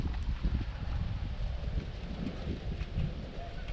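Low, rumbling wind buffets the microphone outdoors while tenkara fishing for trout, a continuous gusty roar with soft fluctuations and no clear talk.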